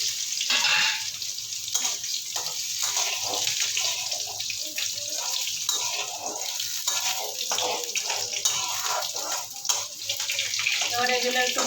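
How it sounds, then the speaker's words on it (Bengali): Black cumin seeds, dried red chilli and garlic sizzling in hot oil in a home kitchen pan, a steady, close, hissing crackle that runs throughout with small pops and bursts. "কালো জিরা ফোড়ন দিলাম তেলে, শুকনো লঙ্কা আর রসুনটা দিয়ে দিলাম।"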